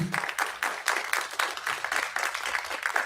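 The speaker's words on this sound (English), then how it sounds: "Can we give him a round of applause" Round of applause from an audience at a community launch event, with hand claps coming in rapid uneven bursts at close range and filling the moment with little talk.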